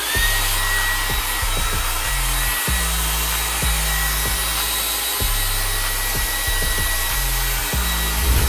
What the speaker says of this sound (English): I'm going to use like the minimal heat setting and just quickly like blow dry my hair.